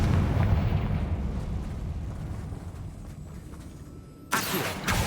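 The Confringo fire spell from Hogwarts Legacy explodes, opening with a deep rumbling blast that fades and then a second sharp burst near the end.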